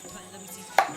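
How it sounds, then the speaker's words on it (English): A knife strikes a cutting board once, a single sharp chop while julienning vegetables for coconut curry soup, with faint room noise before it. "So basically we're gonna get started chopping. Like a julienne."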